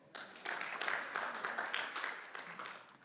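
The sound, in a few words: congregation clapping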